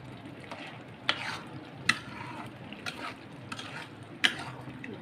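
Rui fish curry with coconut is stirred in a pan, a low bubbling sizzle broken by several sharp scrapes and clinks of the spoon against the pan.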